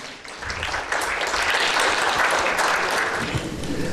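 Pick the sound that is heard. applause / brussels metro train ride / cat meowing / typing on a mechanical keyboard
applause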